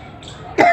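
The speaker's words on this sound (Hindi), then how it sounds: "खांसी उठी" A single short cough bursts out near and fairly loud after a quiet stretch, in a room where a swami is giving a spiritual discourse.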